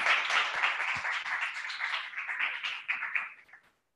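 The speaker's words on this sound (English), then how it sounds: "Let's give her a round of applause" An audience at a cryptography talk series gives a round of applause for the speaker, with steady clapping that slowly fades and stops after a few seconds.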